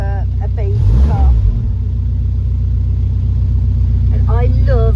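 A 1955 Renault 4CV runs at a steady idle, giving a low, even rumble throughout, with voices briefly heard over it near the start and the end.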